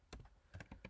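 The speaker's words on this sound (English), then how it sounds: "Not typing very well today." Keys clatter on a computer keyboard in a handful of quick, separate strokes, close and crisp over a quiet room, with no voice.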